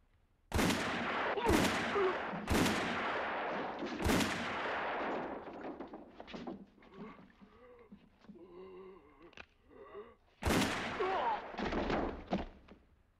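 Loud gunshots ring out in a 1966 Sergio Leone western bath scene: four sharp blasts at a steady pace, then quieter rustling and faint vocal sounds, followed by another burst of shots near the end.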